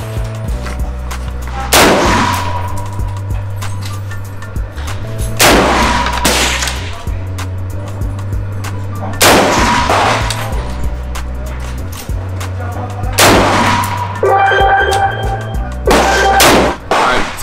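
Several sharp, loud 300 Blackout rifle shots fired with Wolf 55 grain ammunition at a shooting range, spaced a few seconds apart with booming tails, over a constant low engine-like hum.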